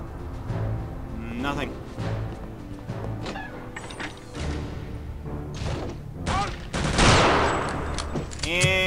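Gunfire from a player's pistol in the video game Return to Castle Wolfenstein, a busy mix of shots and thumps mixed with other game effects and mechanical noises, with a person talking over parts of it.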